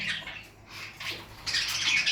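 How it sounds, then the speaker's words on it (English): Parrots in a shed aviary with baby parrots in the cage give scattered squawks and chirps in a steady mid-distance chatter that swells louder toward the end. "here you can see that there are baby parrots inside the cage"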